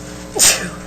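A single quick sneeze in a committee meeting room, one sharp burst rising above a steady background hum, fairly close and brief.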